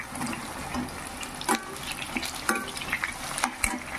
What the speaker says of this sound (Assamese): এতিয়া অলপ সময় মই এই তেলখিনিতে ধুনীয়াকৈ লৰাই কৰি ল'ম।